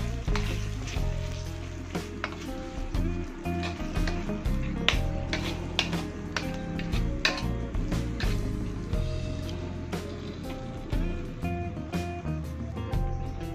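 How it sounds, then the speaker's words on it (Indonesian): Lemongrass, bay leaves, star anise and cardamom sizzle and crackle steadily in a hot pan, with scraping stirs and occasional clinks of utensil against metal, close and continuous. "Kemudian kita masukkan serai, daun salam, bunga lawang dan juga kapulaga. Kita aduk kembali."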